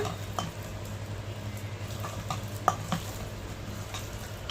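Chicken lollipop pieces being mixed by hand with masala and food colour, soft continuous wet squelching and shuffling with a few faint clicks against the bowl, no talking.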